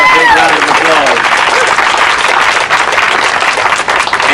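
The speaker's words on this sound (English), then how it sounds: "Please help me in giving her a big round of applause." An audience gives sustained, dense applause for an arts director at a public art unveiling in Providence, loud and close throughout with a few faint voices mixed in.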